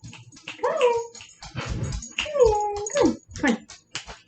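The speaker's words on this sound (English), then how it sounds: "And oh, I hear the dog." A pet dog named Rainy whimpers in a few high, wavering whines close by, with short pauses between them and voices mixed in.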